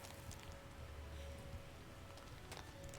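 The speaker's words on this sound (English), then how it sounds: "Poison rain." Poison rain falling in No Man's Sky, a steady faint hiss of dense rainfall with scattered droplet patter and a low rumble underneath, continuous throughout with no voices.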